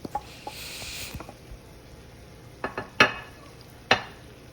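Kale cooks in a pan for one-pot caper and kale spaghetti: a faint low sizzle with a brief hiss early on, then sparse sharp clicks and scrapes of stirring.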